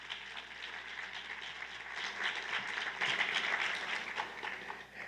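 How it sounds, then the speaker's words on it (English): Faint applause from the audience at a city State of the City address in Statesboro, a distant, even clatter of many hands that swells slightly toward the middle and continues to the end. "So let's give them another round of applause."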